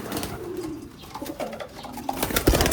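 A racing pigeon coos in a few soft, low, rounded calls at close range, with light rustling and no talking.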